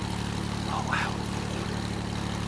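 A small propeller plane takes off in the Airport Master airport game, its steady droning engine and airscrew hum holding constant and loud, with a brief rise in pitch partway through.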